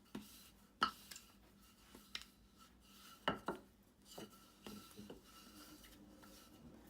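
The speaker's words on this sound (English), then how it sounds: "roll it with a rolling pin. And while you're rolling, you're going to hear some gas escaping." Bread dough for a classic white loaf being worked with a rolling pin, giving soft scattered rubs and taps with a few sharper knocks against the counter, fairly faint and close, with no talking.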